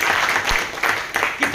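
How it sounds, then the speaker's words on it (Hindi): Scattered audience clapping at a motivational business seminar, arriving in a few uneven bursts rather than a sustained ovation, fairly loud and close. "ताली जोरदार वाली बजा दो सर"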